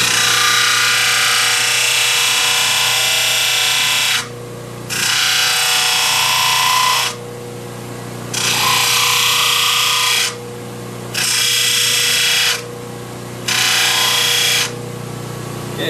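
A belt sander grinds a wooden fingerboard blank in five loud, steady bursts, each lasting a couple of seconds and separated by short quiet gaps.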